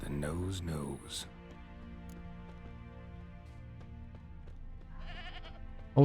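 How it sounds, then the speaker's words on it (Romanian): A goat bleats in The Witcher 3, a loud wavering cry near the start, followed by quieter game ambience with a steady hum and a brief sharp sound at the end; someone talks over it. "Auzi capra."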